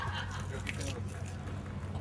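Car keys jangle as they are handed over during a vehicle repossession, a short metallic rattle close by with voices talking over it.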